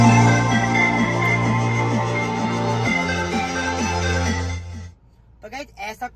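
An NCS electronic track plays through a car stereo in the DSP app's normal mode: steady, loud music with a pulsing beat that cuts off near the end, followed by brief speech.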